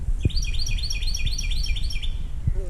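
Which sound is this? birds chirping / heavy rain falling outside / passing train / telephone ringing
birds chirping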